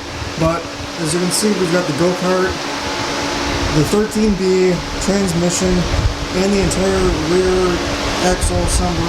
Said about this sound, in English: Sorry about the fan, I hope that's not too loud on camera.